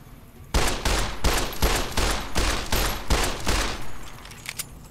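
Rapid gunfire in Fallout New Vegas, a loud burst of closely spaced shots in a steady rhythm lasting several seconds, then stopping abruptly with a few faint trailing clicks.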